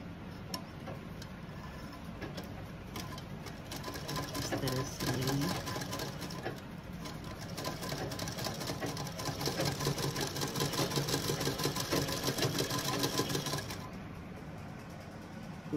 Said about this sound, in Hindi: तो हम पहले यहाँ से सिलना शुरू करेंगे।